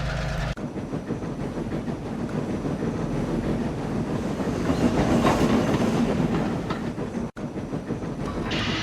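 Cartoon steam train engine running along rails on a snowy line, a loud continuous rumbling clatter with rhythmic clickety-clack and wind noise, briefly cutting out near the end, with no voices.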